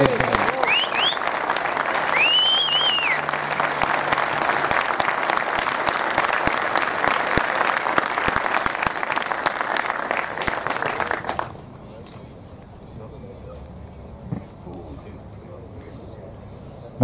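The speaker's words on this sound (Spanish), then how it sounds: "se ganaron un tremendo aplauso los chicos" Sustained applause from a rugby training audience for the players, dense and steady clapping with a few voices whooping over it, cutting off sharply to a quiet room near the end.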